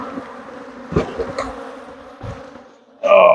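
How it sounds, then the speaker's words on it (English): Honey bees drone steadily around a backyard hive split being calmed during a hive inspection, a continuous low buzz with brief louder swells as bees pass close, ending in a loud burst of nearby buzzing. "I'm trying to get the bees calmed down so they stop"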